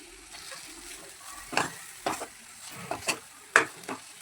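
Fish pieces are stirred into Malvani rassa masala in a hot pan, giving several quiet scraping, sizzling strokes in an uneven rhythm over a faint background.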